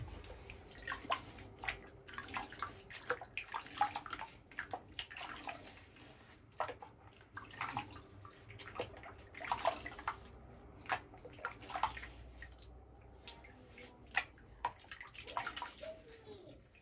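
A razor is swished and rinsed in a basin of water after a beard trim, giving soft, repeated sloshing and dripping splashes in an irregular rhythm, fairly quiet and close, with no talk.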